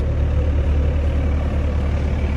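An excavator's diesel engine running at raised throttle, a loud, steady low rumble with constant drone and no breaks, heard close by without talk.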